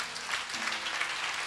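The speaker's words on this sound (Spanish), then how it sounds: "Un aplauso al Señor" Congregation applause at a Friday church service in Barquisimeto, Venezuela: dense, steady clapping from many hands, fairly soft and even throughout, with no voices over it.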